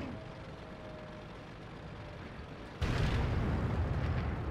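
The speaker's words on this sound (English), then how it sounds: "A lot of artillery in testing here, it seems" Artillery blasts in the World of Tanks game come as a sudden loud, heavy explosion partway through, followed by a sustained rumbling roar over a steady background of engine and battle noise.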